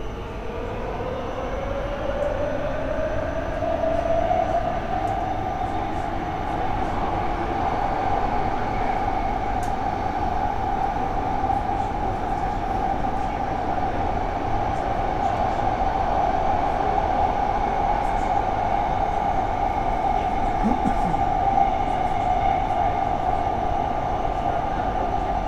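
A Warsaw metro train runs underground, giving a steady, moderately loud rumble with a sustained rising-then-level electric motor whine throughout and occasional faint rail squeaks, with no one talking.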